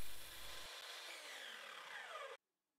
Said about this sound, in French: Puis j'effectue une première coupe sur tous mes bois d'un seul côté